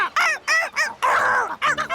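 Angry cartoon seagulls squawk in a rapid run of loud, harsh calls, several short bursts with one longer wail in the middle, close and alone with no talk.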